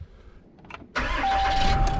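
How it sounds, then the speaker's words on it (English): A pickup truck used for hauling a mini excavator cranks briefly and catches, then settles into a steady, loud, close idle that holds to the end. "Let's get this truck started and get the mini excavator loaded up."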